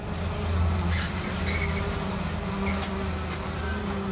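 Honeybees buzz in a steady, dense drone around the hive outdoors, a continuous hum with individual bees passing close now and then.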